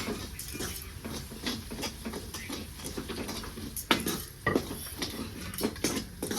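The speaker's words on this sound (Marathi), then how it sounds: "आता अगोदर छान असं मिक्स करून घेते" A spoon mixes a spice powder mixture in a bowl, making close, irregular scraping and clinking taps against the vessel with no talking.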